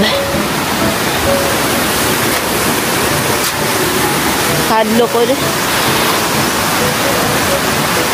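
Rushing water at Kawa-Kawa Falls in the Philippines, a loud, constant roar of falling water filling the scene, with people speaking briefly over it.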